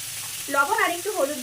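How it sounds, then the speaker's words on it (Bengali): Mango pieces frying in a pan with salt and turmeric, stirred as they cook: a steady close sizzle with scraping stir sounds rising over it midway, no talking. "দিয়ে হালকা আমি ভাজা ভাজা করে নেব"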